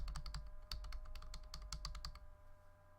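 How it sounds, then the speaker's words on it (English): Rapid clicking of keys on a computer keyboard, close and steady, then trailing off near the end. "just typing away and just like"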